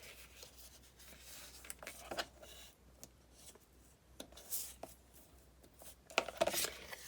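Quiet paper sounds while folded score marks on a handmade album page are burnished: soft intermittent rubbing and scraping strokes, close and faint, in short uneven bursts.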